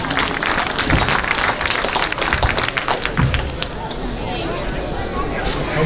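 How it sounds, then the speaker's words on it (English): Audience applause at a junior livestock show after a pig class, a burst of clapping mixed with crowd murmur and occasional thumps, fading over the last couple of seconds. "Let's give them a nice round of applause."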